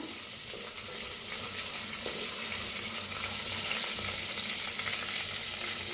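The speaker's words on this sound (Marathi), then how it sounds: "हलकसं भाजून घेऊया" Cumin, asafoetida and chopped coriander leaves lightly roasting in a pan for stuffed tomatoes, a continuous soft sizzle with scattered stirring scrapes throughout, moderately quiet and without speech.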